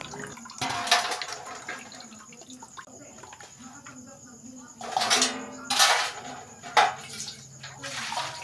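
Water from washing fish is strained to separate it from the guts and gills, giving splashing and pouring with clattering dish and pot sounds, loudest in bursts near the end, with talk throughout.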